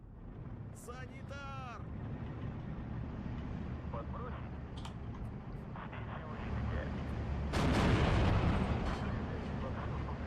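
Artillery fire in the video game Steel Division 2 during a 4v4 conquest battle, a rumbling boom rising toward the end under a steady low battle din, with game voice chatter and beeps heard earlier.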